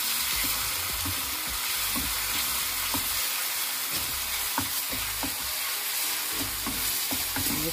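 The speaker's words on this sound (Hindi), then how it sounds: "इसको भूनने रखा हुआ है।" Masala with finely chopped tomato and green chilli fries in a pan for vegetable semiya: a steady, bright sizzle with scattered soft stirring clicks, close and continuous.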